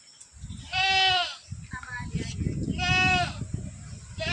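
Goats bleat loudly in two drawn-out calls while grazing in open village farmland, with rustling and background noise between the bleats.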